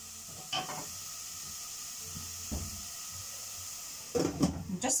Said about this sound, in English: Just gonna leave it there to simmer for approximately 3 minutes